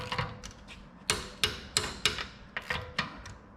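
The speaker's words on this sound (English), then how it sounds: "I said to Dan, let's get the torque wrench out, let's just check the wheel nuts" A torque wrench clicking as wheel nuts on a car are checked in a busy garage, a series of sharp metallic clicks spaced roughly every third of a second, close and distinct, with no talk.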